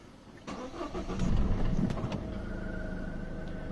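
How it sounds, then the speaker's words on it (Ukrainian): A Peugeot 3008 in top trim starts up: a brief starter crank fires into a rising engine roar, which settles into a steady close idle with no talk. "коли заводимо машину, зараз я заведу, покажу."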